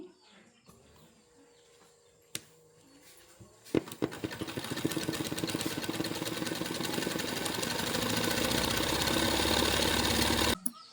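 A machine-embroidery sewing machine runs a first dummy stitch to outline a round shape. After a few quiet seconds with light clicks, it starts a steady, fast mechanical whirring that continues for about seven seconds before stopping abruptly.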